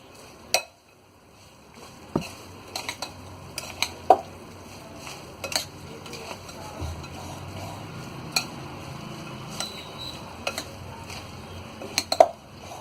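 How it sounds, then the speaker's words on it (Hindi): A spoon tossing bhel puri around a bowl, giving soft rustling and scraping broken by scattered light clinks of metal on the bowl at an uneven pace, close by and alone. "तो इसे हम अच्छी तरह मिक्स कर लेंगे।"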